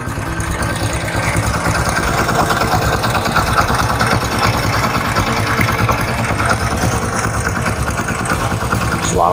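A 2013 Honda Supra X 125 R motorcycle idling, a steady even engine hum close by that holds at an unchanging level throughout, with no talking.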